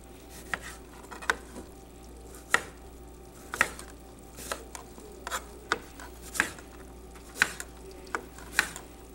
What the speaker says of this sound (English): I should have had these onions already peeled, but what can you do? And they just need to be sliced thinly.